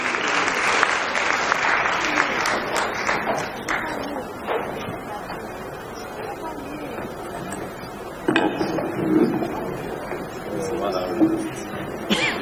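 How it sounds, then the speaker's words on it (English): An audience at a Save the Children centenary celebration applauds a panel moderator, steady dense clapping that runs for about twelve seconds, with a slight dip in the middle and a lift near the end, while voices murmur underneath. "Can we please give him a round of applause as he comes?"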